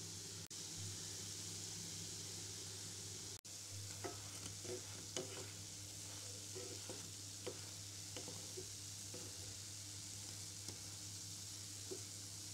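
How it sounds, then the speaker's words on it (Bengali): Oil sizzles steadily as milk-powder kalojam sweets fry, with soft stirring and occasional light clinks from a utensil, under a constant low background hum. "আস্তে আস্তে সময় নিয়ে এই মিষ্টিগুলো ভাজতে হবে"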